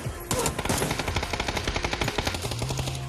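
Rapid automatic gunfire in the video game PUBG during a championship match, a loud, sustained burst of evenly spaced shots lasting a few seconds.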